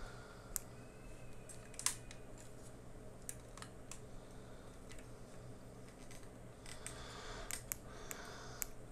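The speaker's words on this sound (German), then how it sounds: "Ich schreibe jetzt mit der Tastatur. Wie ihr hört." Fingers type on a computer keyboard close by, with quiet, irregular key clicks and a few sharper taps over about nine seconds, with no voices.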